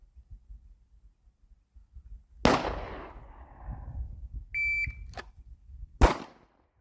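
A shooting drill's electronic shot timer gives a short, clear beep that signals the start, set between sharp, loud gunshots fired one at a time.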